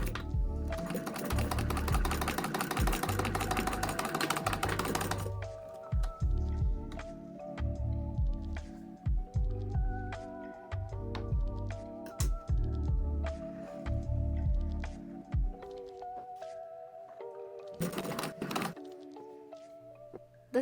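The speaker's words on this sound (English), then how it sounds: "enjoy a little bit of the ASMR, if you will, sounds of the machine as we get moving along" A sewing machine stitches bucket hat side and brim pieces together, running in rapid bursts of close, rhythmic clatter separated by brief pauses and small clicks and thumps.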